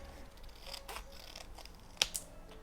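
Scissors cut through a journaling card in a few soft, separate snips, followed by two sharp, close clicks of the blades near the end, with quiet handling between.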